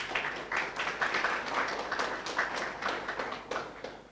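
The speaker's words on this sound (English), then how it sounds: "Another round of applause" Audience applause at a student debate during the Nobel Festival, a moderate burst of steady hand clapping from a hall crowd, fairly even throughout.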